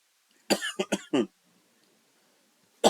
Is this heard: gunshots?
no